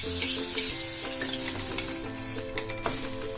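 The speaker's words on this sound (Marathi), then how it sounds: "दोन्ही साईडने आपण त्यांना खरपूस बटर टाकून भाजून घ्यायचं" Bread slices toast in butter on a pan for a vegetable cheese sandwich, giving a steady close sizzle with light scraping and clinks of a spatula against the pan.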